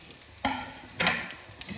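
Ground spices dropped into hot oil for buff sukuti achar, giving two soft bursts of sizzle and stirring that fade to a low crackle, close by with no talk.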